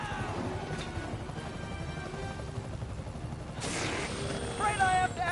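A helicopter in the Spider-Man PS4 video game gives a steady rotor drone under other game effects, with a sudden whooshing burst near the end, at moderate loudness.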